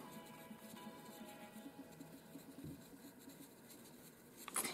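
Soft, steady scratching and rubbing of a drawing tool on paper as white colour is pressed in around cloud edges, quiet and continuous, with a brighter scrape near the end.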